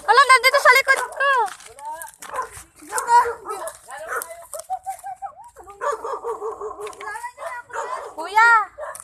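Several dogs bark and yelp repeatedly nearby after a typhoon, a lively chorus of sharp barks and whines over a quiet background.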